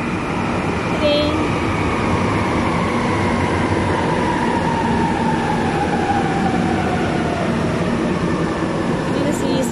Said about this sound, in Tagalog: Ito na yung train.